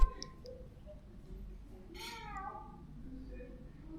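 A single drawn-out meow rises and falls at mid-distance over a low background hum, a little quieter and nasal, a human imitating a cat, at a hostel villa in Marrakech.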